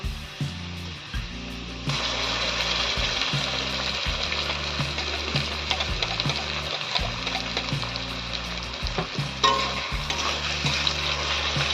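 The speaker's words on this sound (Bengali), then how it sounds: "মশলাটা একটু কষিয়ে নেব" Ground spice paste frying with reddish fried potatoes in a pan gives a loud, continuous close sizzle, with rhythmic low scraping stirs running underneath throughout.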